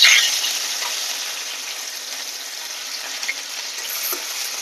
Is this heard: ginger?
yes